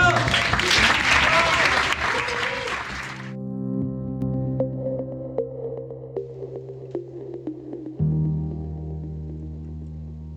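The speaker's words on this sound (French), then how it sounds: "on l'applaudit encore" Applause for a ten-year-old girl on a family hut-to-hut trek around the Vanoise glaciers, a dense burst of clapping for about three seconds that stops abruptly, leaving low tonal music.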